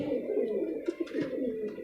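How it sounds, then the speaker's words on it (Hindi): Rampuri pigeons give low, throaty coos at close range, a continuous burbling with a couple of sharper accented notes in the middle. "काली पूँछ है, काली इसकी गर्दन, छींटे पड़ी हैं काली, पंजे जामनी है इसके"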